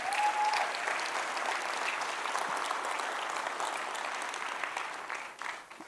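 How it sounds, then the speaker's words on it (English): Sustained applause fills a board meeting and town hall at a restoration industry event, dense and steady from start to finish before tapering slightly at the end. "let's give another round of applause"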